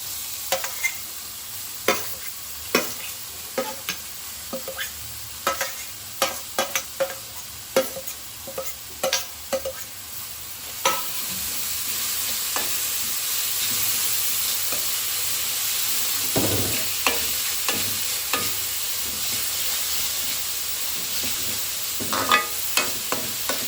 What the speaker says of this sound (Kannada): ಈರುಳ್ಳಿ ಮತ್ತು ಶುಂಠಿ ಬೆಳ್ಳುಳ್ಳಿ ಎಲ್ಲ ಫ್ರೈ ಮಾಡಾಗಿದೆ